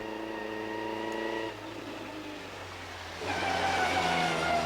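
A 1934 Riley Ulster Imp vintage sports car runs at a hillclimb, its engine note holding steady, dropping briefly, then swelling louder as it accelerates away, heard at moderate distance.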